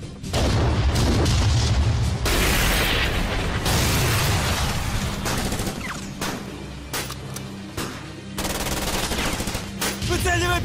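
Heavy booming cannon fire and explosions in a World War II battle scene roll on nearly continuously, loud and dense, with a few shouted Russian firing commands briefly under the blasts.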